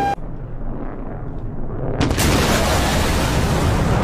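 A missile fires in a Soviet aircraft flight simulator game during an SR-71 Blackbird intercept: a low engine rumble, then a sudden loud, roaring burst of launch noise that holds steady to the end.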